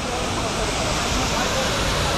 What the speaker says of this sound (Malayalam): അതിനു മുമ്പ് അടിപൊളി ഒരു വെള്ളച്ചാട്ടം കണ്ടു.